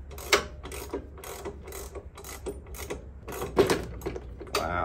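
A ratchet wrench loosens a tight rear wheel bolt on a Harley motorcycle, giving irregular runs of moderately faint mechanical clicking over a low background hum.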